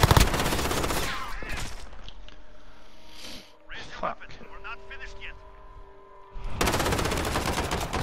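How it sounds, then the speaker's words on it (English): Automatic gunfire from a Call of Duty: Modern Warfare 2v2 match bursts loudly at the start and returns at the end, with quieter shots and engine-like hum in between and a player talking over it. "Getting shot at."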